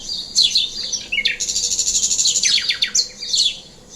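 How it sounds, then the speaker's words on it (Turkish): Sparrows and turtle doves outside a kitchen chirp busily and fairly near, with quick high tweets and trills in overlapping bursts throughout and no one speaking. "Orada sürekli böyle serçeler ve kumrular geliyorlar"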